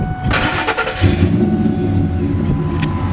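A truck engine cranks and catches, then settles into a steady, loud idle rumble close by, with no voices over it.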